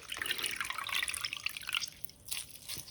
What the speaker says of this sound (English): Now I want to get the nettles and I want to squeeze them with my hands.